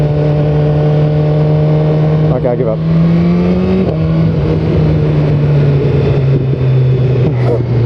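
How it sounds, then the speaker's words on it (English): A 2015 BMW S1000R with stock exhaust revs and drones loudly up close, its engine note rising and dipping with a few popping bursts, while a rider talks over it. "This thing has a stock exhaust and it's making pops all the way through."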